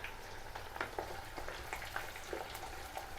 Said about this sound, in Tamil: வெங்காயம் நல்லா எண்ணெயில் வதங்கணும்